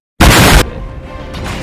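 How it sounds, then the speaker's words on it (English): A single bomb blast in the video game Elden Ring, a loud sudden boom that bursts in, holds for about half a second and then decays into a rumbling tail. "Why do y'all keep throwing these bombs at me?"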